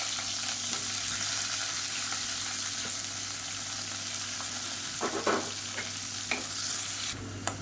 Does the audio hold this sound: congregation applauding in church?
no